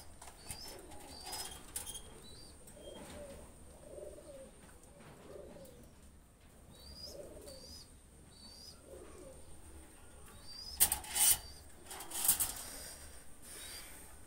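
A pair of Chinese teddy pigeons coos in a breeding room, soft repeated rolling coos spaced through the stretch, with a couple of louder bursts of wing flapping and rustling near the end, no voices.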